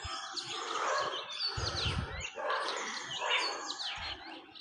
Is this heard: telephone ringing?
no